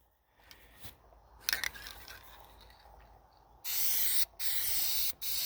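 Several loud hissing bursts of spray paint coat a homemade engine-powered bike push trailer, coming in three close spurts with short pauses between, after quieter handling noises and scrapes.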